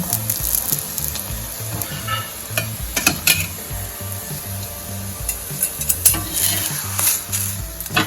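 A masala rotlo, a thick flatbread, fries in oil on a pan with a continuous close sizzle, broken by scraping and stirring clatter from a utensil and no talk.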